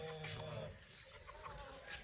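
Aseel roosters and hens kept as a hobby flock cluck softly at a distance, a faint scatter of low calls over quiet background noise.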